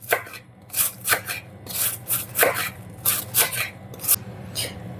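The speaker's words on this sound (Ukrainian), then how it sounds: "Спочатку нам потрібно нашинкувати капусту." A knife shreds purple cabbage on a board in a series of quick, crisp slicing strokes, close and fairly loud, with brief pauses between bursts of cuts and no talking.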